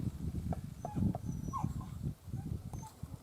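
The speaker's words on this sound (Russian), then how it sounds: "Бесится дальше и скулит." A dog whines and yips in an outdoor enclosure at a village house, with faint repeated whimpers over low rustling and movement, quiet and somewhat distant, with no talk.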